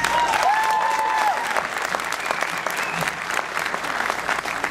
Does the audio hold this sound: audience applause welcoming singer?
yes